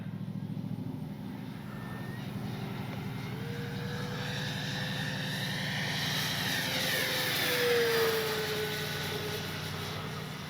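A 1600mm RC P-51D warbird model makes a fast pass down the runway, its engine drone rising and sweeping in pitch as it approaches and passes at moderate distance, fairly loud around the middle and then easing away.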